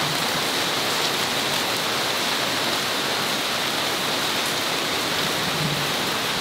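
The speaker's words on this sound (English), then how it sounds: "Can you hear that? Have a look at this, by the way. I mean, I'm not deviating from the story, but I mean, this is the monsoon." Heavy monsoon rain pours down in Bangkok, a dense, steady, unbroken hiss that holds at full loudness throughout with no talk.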